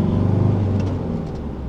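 Car cruising at about 90 km/h behind a truck on a busy road, a steady close low engine and road rumble holding throughout with a brief swell of passing noise near the middle.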